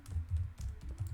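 Rapid soft keystrokes on a computer keyboard as a short message is typed, close and quiet with an uneven clicking rhythm and no voice.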